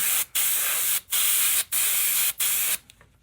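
An airbrush sprays face paint in four short, even bursts separated by brief pauses, each a close, sharp hiss that starts and stops abruptly, then falls quiet.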